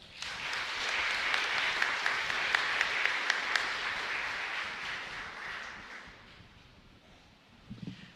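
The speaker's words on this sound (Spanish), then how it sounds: "Un aplauso, por favor." Congregation applause fills a church during Mass, a steady broadband clapping that holds for several seconds before thinning and fading near the end, with a faint rustle as it dies out.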